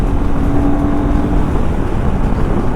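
Royal Enfield Himalayan 450 motorcycle engine running under load at highway speed around 120, a steady loud drone with a faint tonal hum and wind rush, no talking.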